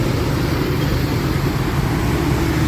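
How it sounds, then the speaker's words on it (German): An old scooter pulls away into busy city traffic in Vietnam, heard as a steady, loud low rumble of engines and road noise with no clear breaks. "Der Marc wird jetzt mal Testfahren hier mitten im Verkehr."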